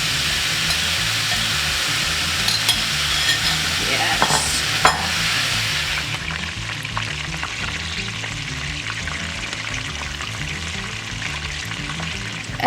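Sauce for a South African braai pie sizzles steadily in a frying pan, a loud continuous hiss with occasional stirring scrapes, bright at first and settling into a softer crackle partway through.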